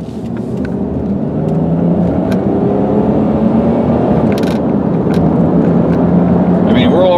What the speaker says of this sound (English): This car just accelerates, it's powerful